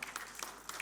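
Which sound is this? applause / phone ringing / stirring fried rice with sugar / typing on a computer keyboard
applause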